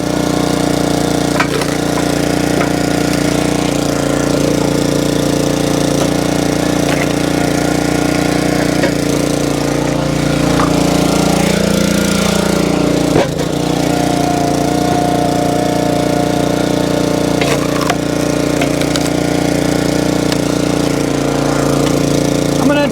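A log splitter's small engine drones steadily and loudly throughout while firewood is split, with occasional creaks and a wood crack partway through, and no talking.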